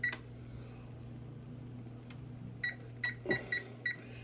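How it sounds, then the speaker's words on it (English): A kitchen timer being set on a cooking counter gives a few faint, short, evenly spaced beeps near the end, over quiet room hum, with no talk. "I'm going to set the timer over here"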